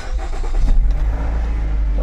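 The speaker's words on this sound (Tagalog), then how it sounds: "Nakaandar na ang kanyang makina. Cold start." 2014 Nissan X-Trail engine cold starting, a brief cranking burst that catches into a loud, steady idle, close by and heard alone.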